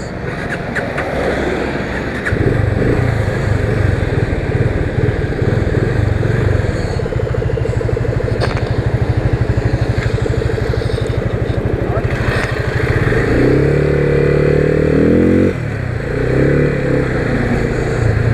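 A Yamaha FZ25 motorcycle engine drones loud and close while riding, its steady low rumble rising as it revs, with a rider talking over it and wind buffeting throughout.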